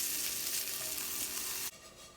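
Potato gnocchi sizzle steadily in hot butter in a pan as they are tossed, a bright continuous frying hiss that cuts off abruptly to quiet near the end.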